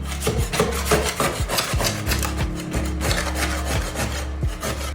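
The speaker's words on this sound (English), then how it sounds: "I'm just trying to scrape it off with a putty knife" Repeated rough scraping strokes of a metal putty knife against a hard patch on a fiberglass bathtub, close and rhythmic, with a low steady hum underneath.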